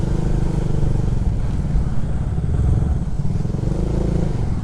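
A motorcycle rides along a mountain road in Baguio, near a waterfall, its engine droning loudly and steadily up close with rough wind buffeting throughout.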